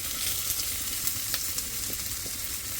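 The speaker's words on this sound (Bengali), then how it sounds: "দিয়ে দেবো পেঁয়াজ, একটু ভাজা দেওয়ার জন্য" Onions sizzle in hot oil in a pan: a steady, close hiss of frying with faint crackles, no voices.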